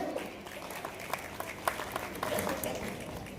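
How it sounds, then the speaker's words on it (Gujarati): An audience applauding at a student award ceremony, a steady patter of many hands clapping together at moderate distance, fairly quiet and sustained throughout. "જોરદાર એકવાર તાળીઓ થઈ જાય"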